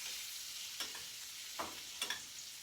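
Scallops sear in a pan of butter with a steady bright hiss and crackle. A few soft clinks and scrapes come from a spoon basting them. The sound is quiet and close, with no voices.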